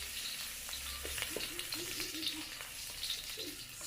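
Garlic sautéing in a hot pan while cooking Nilarang de Bohol, a steady, soft sizzle with faint hiss and a few light clicks, no talking.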